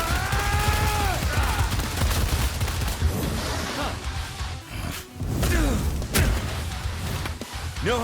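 Shotgun blasts and combat impacts from the Devil May Cry video game, a dense run of loud booming shots and crashes layered over game music and effects.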